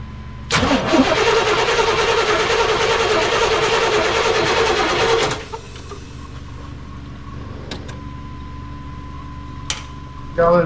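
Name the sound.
1989 Chevy Suburban engine cranking after fuel filter change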